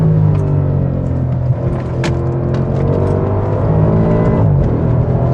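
A brand-new engine in a big, heavy Maserati Quattroporte GTS, a high-mileage rebuild, drones steadily at close range while the car is driven on back roads, a continuous loud rumble with little change in pitch.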